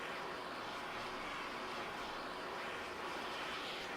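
Steady, muffled roar of a jet aircraft engine during landing in the ArmA 3 video game, a continuous broadband rumble with no breaks.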